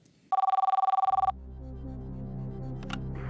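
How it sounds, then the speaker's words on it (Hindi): On a TV quiz show, an outgoing call rings with a rapid burst of trilling phone bell and then gives way to a low droning line tone, sounding clear and close. "हरिशंकर गुर्जर जी, ये जयपुर से हैं, इन्हें फोन लगाया जाए।"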